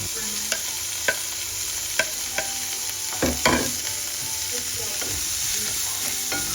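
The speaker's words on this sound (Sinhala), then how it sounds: "දැන් හැන්දෙන් කලවම් කරමින් මේ ටික තෙලේ හොඳින් තෙම්පරාදු වෙන්න අරින්න." A spoon stirs beef, chopped vegetables and curry leaves frying in oil for a baby soup: a constant sizzle with periodic scraping strokes and knocks from the stirring, close and clear, with no voices.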